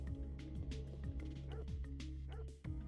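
Small dogs in the Parasite Eve video game bark and yip repeatedly in a lively, overlapping run against steady game music, with a whimpering note and faint talk mixed in.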